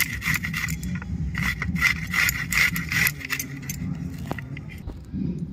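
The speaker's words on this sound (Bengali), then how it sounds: "আদাটা আমি ঘষে নিচ্ছি, রসুনগুলো আমি ঘষে নিচ্ছি" Ginger and garlic being grated by hand, a steady run of rough rasping strokes with bright metallic scraping, close and fairly loud, over a low background hum.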